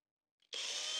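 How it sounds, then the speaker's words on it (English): Power drill pre-drilling holes in wood for carriage bolts, starting abruptly after a brief faint touch and running as a steady, close whine for the rest of the moment. "I pre-drilled the holes for a better fit of the carriage bolts"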